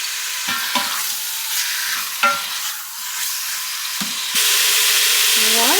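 Chicken chili ingredients frying in oil in a pot, a continuous close sizzle broken by a few stirring scrapes, then the hiss swelling louder and steadier once the lid goes on.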